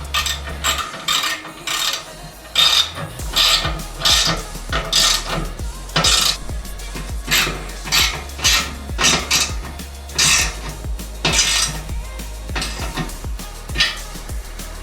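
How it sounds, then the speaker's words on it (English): An 11mm socket on a ratchet wrench tightening awning mounting bolts on a lifted Lexus GX460, heard as steady, repeated close ratcheting clicks in rhythmic bursts with metallic rattles, no talking. "We're using an 11mm socket to just tighten all this"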